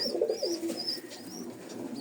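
Domestic pigeons on a farm coo nearby in soft, repeated low warbling calls, with a few faint higher chirps over a steady background hum.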